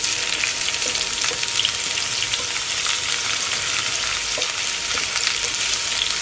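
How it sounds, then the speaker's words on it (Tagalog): Beef tripe sautés in a pot with a dense, continuous sizzle and faint scattered stirring clinks, loud and close throughout without any talk. "Sunod ko nang ilagay dito ang ating tripe at halu-haluin lang to"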